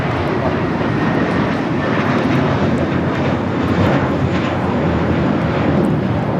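An American Airlines Airbus A321 takes off from Los Angeles airport, a loud, steady, broadband jet roar filling the whole stretch with no voices over it.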